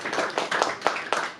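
Audience at an ISKCON Sunday feast program claps for the sponsors, with distinct, fairly loud hand claps coming in an uneven, scattered rhythm from a modest crowd.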